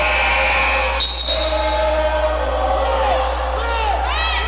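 Women's college basketball game crowd in a gym reacting loudly after a missed three-pointer, a sustained roar with whoops and shouts, including a brief louder burst of voices partway through.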